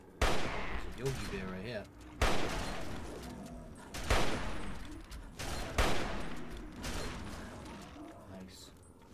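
Gunfire in the video game Fallout 3: several loud, sharp shots spaced about two seconds apart, each with a long ringing tail, while someone talks between them.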